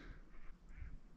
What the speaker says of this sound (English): I hear the duckies. Mallards.